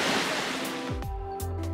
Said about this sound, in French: la rivière elle est ultra agitée